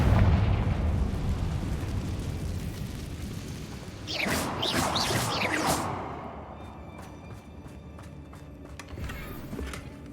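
A Confringo blasting spell explodes in the Hogwarts Legacy video game, a sudden loud burst with crackling debris lasting about two seconds. Lighter rattling and clinks follow, set over a steady low rumble.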